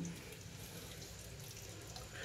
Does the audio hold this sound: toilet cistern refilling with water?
yes